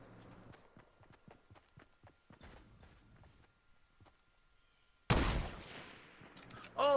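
Shotgun fire in a multiplayer shooter video game: quiet rapid footstep-like taps, then one sudden loud, close blast with a decaying tail, and another sharp report right at the end.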